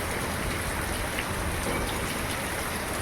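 Steady rain falls around a house, a dense, even wash of patter and drips with no breaks, fairly close and unbroken for the whole stretch.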